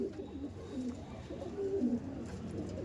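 Domestic pigeons cooing in a loft, low soft throaty coos repeating close by in overlapping phrases with a steady background murmur.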